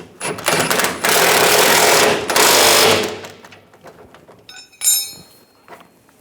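Control arm bolts on a 2011-2018 Ram 1500 are tightened with a power tool, giving two loud close rattling bursts of a few seconds each, then a brief ratcheting click and quieter handling.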